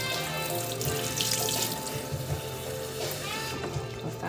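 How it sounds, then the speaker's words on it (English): Water squeezed and wrung from a freshly dyed tie-dye cotton garment over a sink, a close, continuous splashing and trickling with small surges, and no talking. "See again, so I'm squeezing this water."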